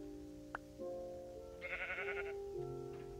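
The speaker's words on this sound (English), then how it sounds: "Okay, those sheep are getting annoying." A Minecraft sheep gives a wavering, bleating cry in the middle of the moment, heard over steady in-game background tones, with a soft click before it and no talking.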